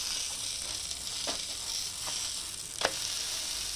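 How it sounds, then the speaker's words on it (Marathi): A dhirde, a thin savory pancake, cooks under a lid in a pan, giving a steady soft sizzle with a few brief crackling pops. The sound is close but fairly quiet, and no one speaks. "आता दुसरीकडनं याला छान शिजवून घेणार आहोत मस्त खरपूस झाकण ठेवून"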